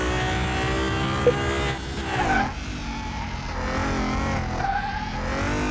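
Engine of a car driven in Car Mechanic Simulator 2021, a steady droning hum throughout with a brief tire squeal and a short surge of revving midway, no talking.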